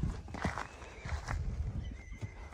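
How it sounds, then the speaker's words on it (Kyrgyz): A tall horse used in ulak games snorts and whinnies while its hooves clop irregularly nearby, a few faint, uneven bursts with soft background rustle. "Улакта жүргөн ат."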